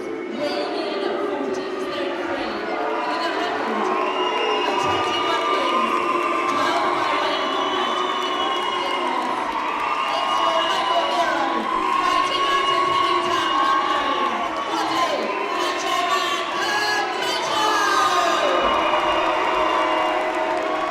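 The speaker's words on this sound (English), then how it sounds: "you could just hear that loud crowd, that big terrific support here for DEION" A boxing crowd roars throughout an English cruiserweight title fight between Deion Jumah and Wadi Camacho in 2019, with sustained loud cheering and whoops. Commentators talk over the noise.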